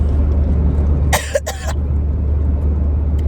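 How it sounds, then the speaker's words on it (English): Two short, dry coughs caused by allergies and a dry throat break out close by. A steady low rumble of traffic or an engine continues underneath throughout. "a dry spot in my throat that makes me cough"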